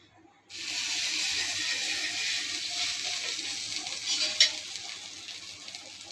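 Pav bread halves sizzle in oil on a hot tawa for pav bhaji, a steady loud frying hiss starting abruptly and continuing without pause, with a few small pops near the end.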